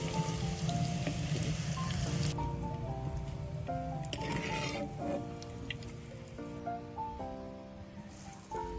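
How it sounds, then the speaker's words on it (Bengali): Chili and garlic leaves frying in hot oil, a steady close crackling sizzle with scattered pops running throughout, with brief clinks of a utensil against the pan partway through. "রসুন পাতাটাও ভেজে নিচ্ছি তেলের মধ্যে"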